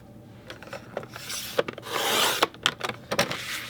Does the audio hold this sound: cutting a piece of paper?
yes